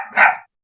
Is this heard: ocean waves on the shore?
no